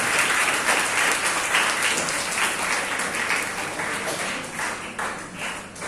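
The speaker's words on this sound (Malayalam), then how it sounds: "നല്ലൊരു കൈയടി" An audience at a laptop distribution event led by an MLA gives sustained, dense applause that stays loud and steady for several seconds before easing slightly.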